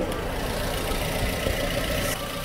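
Used Korean light car engine idling with a steady, even low rumble and faint mechanical ticking, heard up close and alone with no talk.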